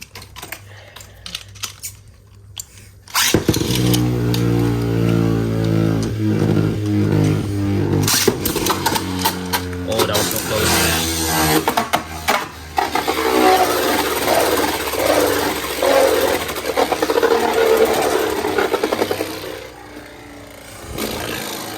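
Beyblade Burst tops Zest Achilles and Divine Belial whirring in a plastic stadium, with a sharp launch followed by steady loud spinning and repeated rattling clashes and hits, then a brief quiet tail.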